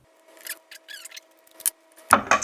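Scissors snipping through tape during a Valentine ribbon craft, a few short crisp cuts and rustles up close, then a louder crinkling of tape and paper at the end.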